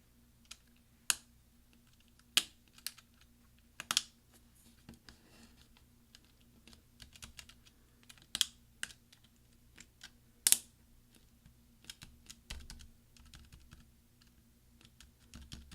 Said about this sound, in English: we're going to push down with our finger, and we're going to hear several snaps